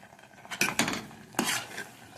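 A metal spoon scrapes and knocks against a pot while flour is stirred in ghee over a low flame, giving a few clustered clinks and scrapes close up.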